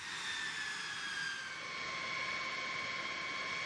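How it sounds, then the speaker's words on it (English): Steady roar of B-52 bomber jet engines winding up, with high turbine whines sliding and holding throughout, loud and continuous with no voices. "the crew will give the signal to initiate the engine start sequence"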